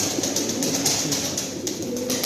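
Pigeons kept as Turkish play birds coo softly in a steady, repeated murmur, fairly faint with a little background hum and no talk.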